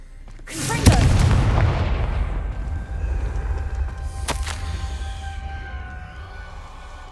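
A Confringo blasting spell in Hogwarts Legacy detonates with a loud, booming explosion that rumbles and slowly fades, followed by a second sharp crack a few seconds later.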